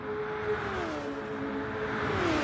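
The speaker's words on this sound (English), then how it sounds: "I love listening to how the cars come past. It sounds amazing." Race cars in Gran Turismo Sport on the Sardegna road track, engines whining with a smooth rising and falling pitch as they pass by. The sound is moderately faint and steady, with no voices over it.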